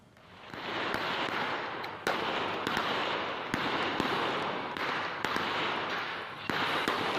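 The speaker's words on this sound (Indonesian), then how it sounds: "Polisi terpaksa melepaskan tembakan untuk membubarkan sekelompok orang" Sharp, repeated gunshots fired by police to disperse a crowd at a nickel company site in Morowali, Indonesia, crack out at irregular intervals over a steady noisy background, sounding somewhat distant and echoing.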